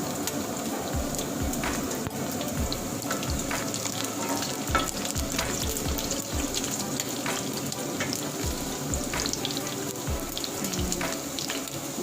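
Garlic fries in rendered pork belly fat for Ilocano-style pancit bihon, giving off a loud, continuous sizzle with steady stirring scrapes and crackles throughout.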